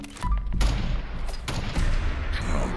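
Full-auto NZ41 rifle fire in Fallout 4, a dense, loud run of booming shots blurring into one another, with continuous gunfire and thumping impacts across the whole burst.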